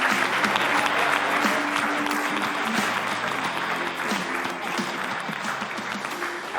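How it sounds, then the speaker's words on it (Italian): A crowd claps together at an Italian sports event, dense sustained applause that stays loud throughout, with faint voices murmuring underneath. "allora facciamo un applauso a Giorgio."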